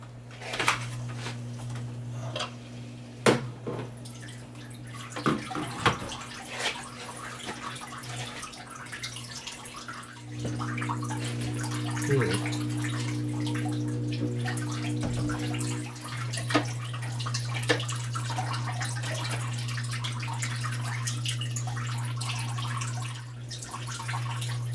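An indoor aquaponic garden system runs with water flowing and trickling, soft drips and occasional knocks over a steady low pump hum, growing into a fuller continuous flow partway through.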